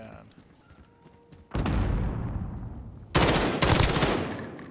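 Short-range automatic gunfire from a weapon in Modern Warfare: two loud bursts of rapid shots, the second louder, over quieter game ambience, with voices talking during play.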